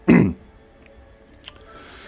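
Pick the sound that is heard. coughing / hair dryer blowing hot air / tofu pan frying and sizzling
coughing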